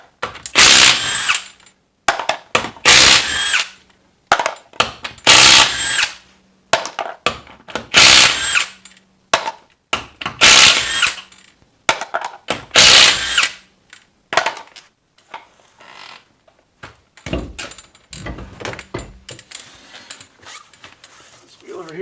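An impact wrench rattles lug nuts off a 2010 Suburban 2500 wheel in repeated loud bursts of hammering, each lasting about a second with short gaps, followed by quieter clinks and handling noise.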